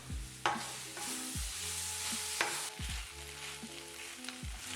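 Vegan kimchi taco filling sizzles steadily in a hot pan while a utensil stirs and scrapes through it in repeated strokes, close and alone without talk.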